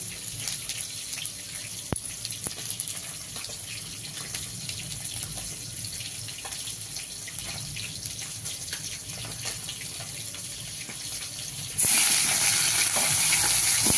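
Panch phoron seeds sizzle and crackle in hot oil for a Bengali labra vegetable dish, a steady close hiss that suddenly grows louder and brighter toward the end.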